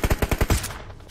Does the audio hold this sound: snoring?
no